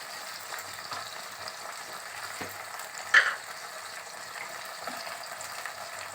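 Chicken mince frying in a pan with Kashmiri chilli powder, giving a steady, fairly quiet sizzle with one sharper crackle partway through and no talk.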